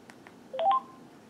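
On a Kyocera DuraPlus cell phone, a code is keyed in with a few brief electronic keypad beeps in quick succession, clear and close with a quiet background.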